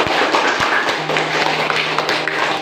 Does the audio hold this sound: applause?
yes